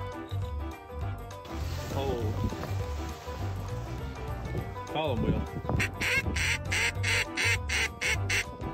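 Ducks quack and squawk loudly and repeatedly, close by, in rapid bursts near the end. Other animal noises and a speaking voice are mixed in, and there is a rain-like patter in the background.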